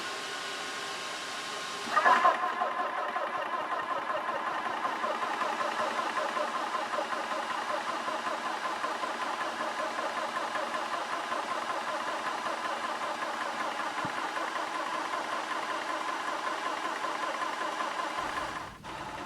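A Lil' Foot 2.0 high pressure PCP air compressor running steadily with an even mechanical drone and fan hum, kicking in loudly near the start and continuing unbroken until it cuts off at the end.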